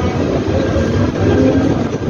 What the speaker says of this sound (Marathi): ट्रेन आपली पण चालू होती काय गेली ट्रेन.